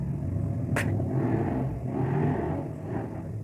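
A car passes outside, a steady low road rumble that swells and fades across a few seconds, heard indoors at moderate distance, with a sharp brief click near the start.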